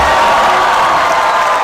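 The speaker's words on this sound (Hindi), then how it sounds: "तालियां" Studio audience on an Indian comedy show bursts into loud, dense applause with cheering and whoops, a continuous roar of clapping filling the whole short stretch.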